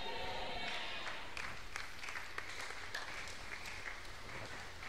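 A church congregation claps for Jesus: steady sustained applause from a crowd in a worship hall, fairly even throughout with a few sharper claps standing out.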